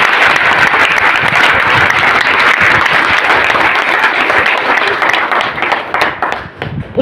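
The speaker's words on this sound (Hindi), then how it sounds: "बाबा अंबेडकर साहब के लिए तालियां हो जाएगी" Loud, sustained audience applause at a live marketing plan demo in India, steady dense clapping from a large crowd lasting throughout, tapering slightly near the end.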